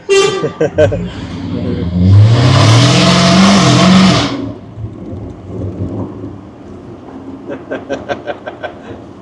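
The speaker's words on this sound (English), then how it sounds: "You like the sound? Yeah, it sounds nice. Yeah, V8." A loud, deep 5-litre V8 engine roar from a Jaguar F-Type swells for a few seconds, rumbling low and strong, with people talking before and after it.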